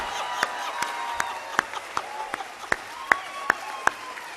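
Scattered, fairly regular claps from an audience at a Hindi poetry recital (kavi sammelan), crisp and moderately close over a sustained tonal background, with no speech.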